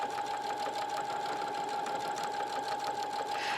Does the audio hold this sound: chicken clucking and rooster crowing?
no